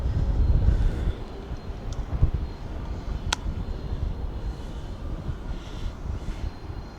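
Wind blows outdoors in a steady low rumble, loudest at the start, with gusty buffeting continuing throughout and one brief sharp click partway through.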